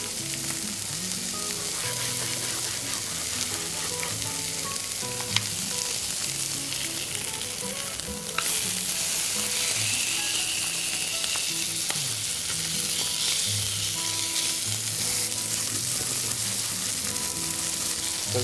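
Garlic frying in a pan in a Bali kitchen gives off a steady, close sizzle that runs on with no break and has no talking over it.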